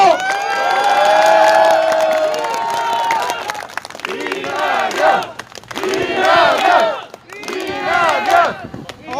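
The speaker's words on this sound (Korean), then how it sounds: "큰 박수로 환영해 주시기 바랍니다." A large outdoor crowd at a 2020 election campaign rally in Namdong, Incheon, South Korea, roars, cheers and chants in loud waves, with some clapping mixed in, rising and falling over several seconds.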